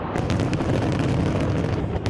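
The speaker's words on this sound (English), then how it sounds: "a massive fireworks display lighting up the Bangkok sky as revelers looked on" Fireworks explode over Bangkok during a New Year's Eve display, a dense continuous roar of booms and crackling bursts with several sharp reports standing out, loud and sustained throughout.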